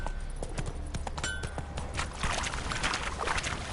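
Roach, the horse in The Witcher 3, clip-clops along at a steady, moderately close gait, mixed with watery splashing and ambient game sound, with no speech.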